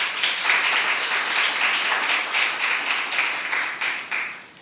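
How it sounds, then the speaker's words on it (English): An audience at a school impromptu speaking competition semifinal claps together, a dense, steady patter of many hands that stays lively before tapering off near the end. "So you all deserve a round of applause."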